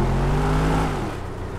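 A car engine revs during drift practice, a loud, close whirring drone that holds steady and then fades off after about a second.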